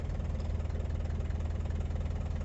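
A Toyota Land Cruiser LJ70 diesel engine idles steadily nearby, a continuous low, knocking rumble with no talking over it.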